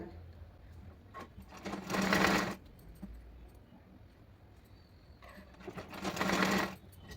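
A sewing machine stitches the ties for a blouse's back neck in two separate fast, buzzing runs, with quieter handling sounds between them.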